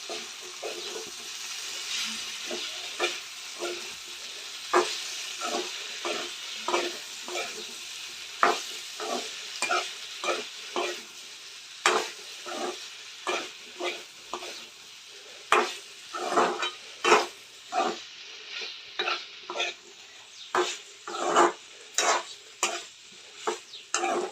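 Cauliflower curry stirred in a frying pan, with repeated scraping strokes of a spoon against the pan over a continuous sizzle, close and fairly loud, in an uneven rhythm.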